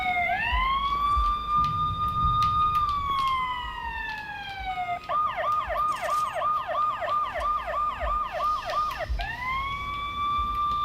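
An ambulance siren in the video game Watch Dogs wails nearby, a long rising and falling tone that switches partway through to a rapid yelping pattern before returning to the slower wail.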